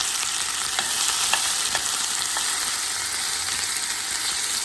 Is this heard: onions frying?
yes